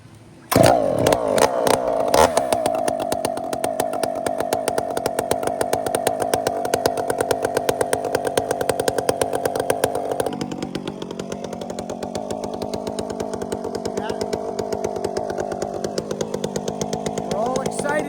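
A new chainsaw, choked for starting at a power-saw gathering, is pull-started with a few sharp bursts, then runs loud and steady at high revs before dropping to a lower, rougher idle for the rest.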